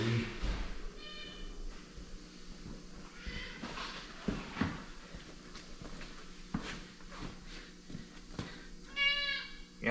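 A cat meows a couple of times at a door, faint and indoors, amid shuffling movement and scattered knocks, with a soft voice briefly in the background.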